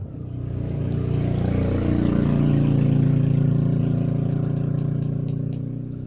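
A motorcycle engine rumbles steadily close by, its low drone swelling and holding for several seconds, with no talking.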